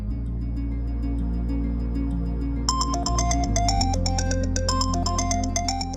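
A phone ringtone plays steadily, a bright repeating melody that starts partway through over a low hum, loud and close with no talking.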